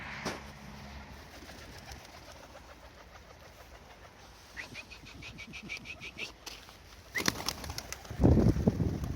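Young Mikołajewski pigeons coo softly in the background, then a burst of wing flapping builds near the end, louder and close by.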